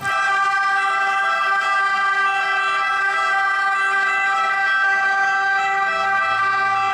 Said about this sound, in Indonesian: Ada ambulan, teman-teman.